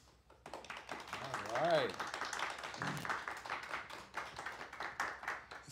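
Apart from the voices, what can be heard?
audience applause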